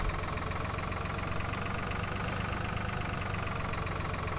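Tractor engine in Farming Simulator 2013, a steady droning idle with a low rumbling pulse, continuous and even in loudness, with no talk.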